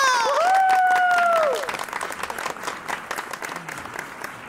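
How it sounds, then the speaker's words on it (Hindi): A crowd applauds steadily after a stage performance at a wedding, with a sustained tone at the start, a dense patter of clapping continuing throughout. "तालियां!"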